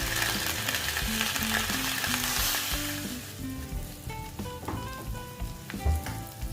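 Potatoes frying in hot oil, a loud, dense sizzle with stirring clatter and tonal kitchen noises over it, fading slightly toward the end.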